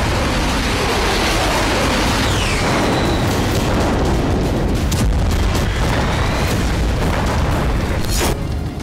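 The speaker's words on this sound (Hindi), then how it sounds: "तेहरान के पास ये वो ब्लास्ट है" A blast near Tehran, Iran booms as a loud, sustained low rumble that rolls on for several seconds with a few sharper cracks over it, dense and close throughout.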